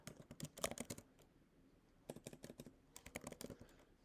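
Quick bursts of keyboard typing, clattering keys in two clusters separated by a short pause, close and fairly quiet.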